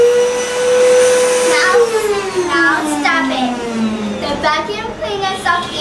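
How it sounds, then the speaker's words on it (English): A vacuum cleaner whirs loudly and steadily, its motor pitch sliding downward partway through, with a voice chattering over it. "Now open the vacuum cleaner and leave it without moving it."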